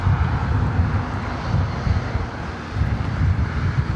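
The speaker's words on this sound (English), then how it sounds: "Got about 3 737s heading up to 24 right for takeoff." Several Boeing 737 jets head for takeoff at LAX, their engines giving a steady low rumble that swells and dips, with wind buffeting the microphone.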